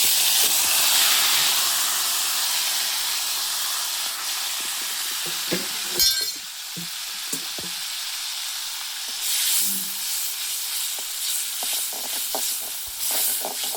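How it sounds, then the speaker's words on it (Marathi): Cumin seeds dropped into hot oil, a loud steady sizzle and hiss close by that fades slightly as scattered clinks and stirring noises cut in, with no talking. "जिरे टाकते आता थोडेसे. जिरे टाकले तेलामध्ये."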